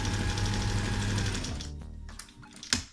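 A domestic sewing machine runs steadily as it stitches fabric, its motor whirring continuously for a couple of seconds before slowing and stopping, with a sharp click near the end, heard up close.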